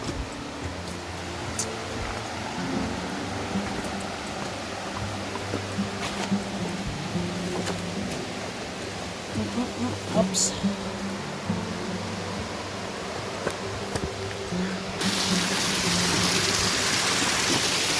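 Continuous splashing rush of a small waterfall, steady and close, with occasional faint clicks, growing brighter and louder toward the end.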